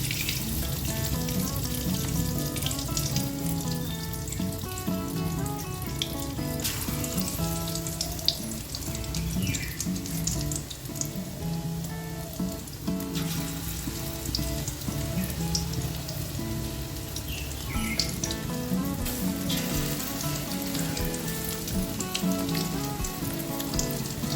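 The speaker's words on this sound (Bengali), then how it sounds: "এবার চিকেনটা একটা একটা করে আমি ভেজে নেব।" Chicken 65 pieces dipped in batter and frying in hot oil, a loud, continuous close-up sizzle and crackle that holds steady throughout with no voices.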